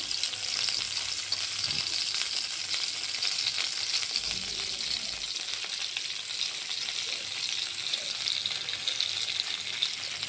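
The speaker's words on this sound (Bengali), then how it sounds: "আমি দুই চামচ ঘি দিয়ে তারপর আবার ভালো করে মিক্সড করে নাড়াতে থাকবো" Grated carrot halwa being stirred in ghee in a pan, giving a steady soft sizzle and hiss with occasional faint scraping of the spoon, continuous and close, with no talking.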